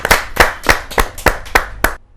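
Audience at a Hindi kavi sammelan poetry gathering claps to welcome a poet, with seven distinct loud bursts of clapping in a steady, evenly spaced rhythm and no speech.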